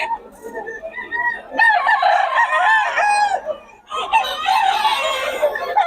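A young white claret gamecock stag crows twice nearby, loud harmonic calls with a short pause between, over faint background murmur.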